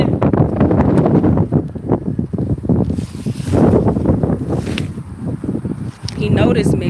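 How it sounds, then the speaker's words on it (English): Outdoor wind buffets the microphone in heavy, gusting rumbles throughout while a person talks over it. "But the wind."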